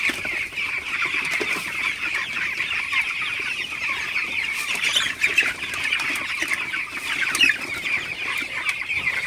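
Broiler chickens in a farm shed at night keep up soft, overlapping clucks and murmurs from many birds, a constant flock chatter at moderate level with no talking.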